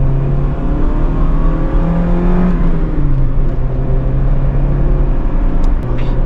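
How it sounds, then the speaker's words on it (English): A car accelerating on a freeway, heard from inside the cabin: a steady, loud engine drone with rising tones as speed builds, under constant road and wind rush. "Let's take it on the freeway so we can get it up to a little bit higher speeds."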